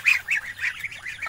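Several ducks quack close by in a rural farmyard, giving a quick series of about six nasal, honking calls in an uneven rhythm with no voices over them.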